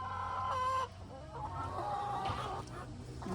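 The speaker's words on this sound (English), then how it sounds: "I love watching my hens." Hens in a backyard flock cluck softly and repeatedly nearby, with a few drawn-out calls among the murmuring.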